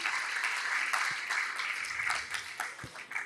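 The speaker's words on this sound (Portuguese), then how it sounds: "Salva de palmas para os nossos volts" A church congregation applauds its volunteers, a short burst of many hands clapping that starts full and begins to thin and fade toward the end.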